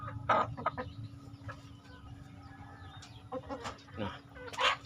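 A mother hen clucks in short, irregular bursts amid a few other soft farmyard noises, fairly close and moderately loud.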